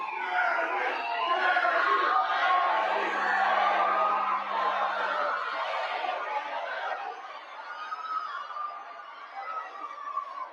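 An outdoor crowd at a freezing-cold march cheers and chatters in a steady, moderately loud wash of voices, with a brief low tone partway through and no single clear speaker.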